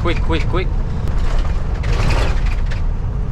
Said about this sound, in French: Vous entendez, justement, ça fait beaucoup de squick, là, tout le plastique